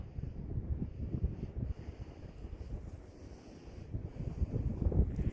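Gusty wind in Dundas Valley near Tews Falls, Ontario, buffets the microphone in low rumbling surges, rising and falling over an outdoor background, with no one speaking.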